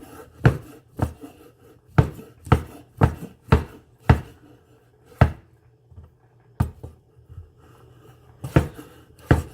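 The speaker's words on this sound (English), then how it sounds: "I'm going to cut them up now" Sausages, one a dark garlic sausage, are sliced on an angle with a knife on a board. About fourteen sharp, close chops land in an uneven rhythm with short pauses and no voices.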